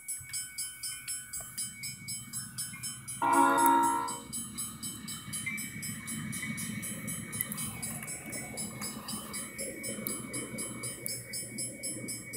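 CSX freight train in the Train Simulator 2015 game rolling across road crossings, a steady rumble with a rhythmic clatter of crossing bells and one short burst of horn near the start.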